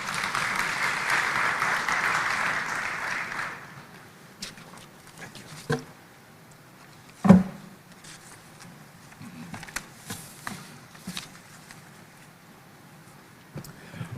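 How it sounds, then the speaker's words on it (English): A crowd claps steadily at a business forum in Nairobi, then the applause tapers off into scattered claps, a few sharp knocks and low room noise. "let us put another round of applause"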